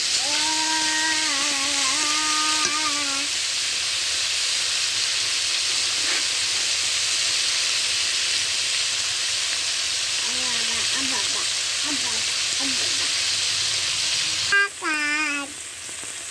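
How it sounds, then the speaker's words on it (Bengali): Fish frying lightly in a pan gives a steady, even sizzling hiss for the whole stretch, with voice-like tones rising over it at the start and again near the end. "মাছগুলো খুব বেশি কড়া করলে হবে না, হালকাভাবে ভেজে নিতে হবে।"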